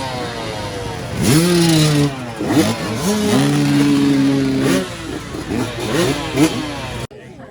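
Dirt bikes lined up at the starting line of an AM bike race at a cross-country event, several engines revving and rising in pitch together, loud and close, with repeated throttle blips.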